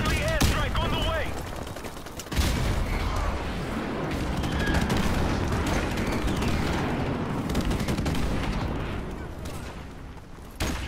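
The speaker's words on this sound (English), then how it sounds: "Friendly airstrike on the way." Heavy gunfire and explosive airstrike booms from Call of Duty: Modern Warfare Ground War roar loudly and continuously, with rapid shots and rumbling blasts, while a voice speaks in the game.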